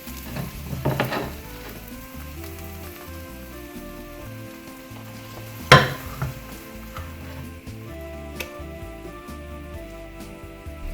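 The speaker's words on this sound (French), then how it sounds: "j'ai essayé de faire une omelette" An omelette sizzles and crackles in a frying pan, a steady soft fizz broken by a few sharp clanks and scrapes of a utensil.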